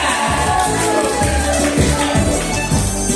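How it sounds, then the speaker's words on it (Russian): Applause from an audience at a village concert marking the close of the season in Buzovyazy, a steady, dense clapping that fills the room without pause. "Под ваши бурные аплодисменты, дорогие друзья."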